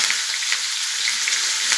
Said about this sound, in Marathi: आणि कांदा चांगला परतून घेते